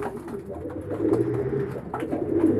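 Pigeons coo softly and repeatedly at close range, a low rounded bubbling that carries over quiet background, with no talk.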